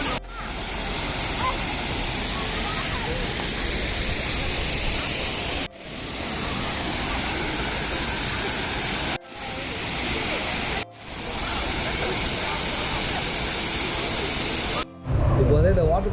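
Clear water pours steadily at a waterfall in Marayoor, a dense, continuous rushing roar held close and loud for the whole stretch, cut by a few brief dips and ending in a short burst of louder splashing.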